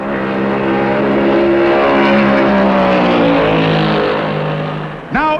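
Stock cars racing at Darlington Raceway in the 1972 Southern 500 at about 150 mph: a loud, sustained engine roar rises slowly in pitch, then a second car whips past near the end.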